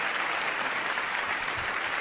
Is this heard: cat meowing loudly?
no